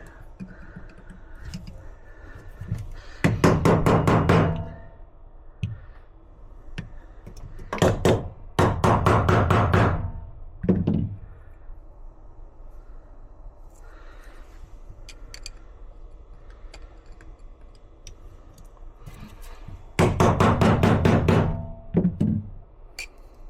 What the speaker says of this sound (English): So now we'll punch those ones down.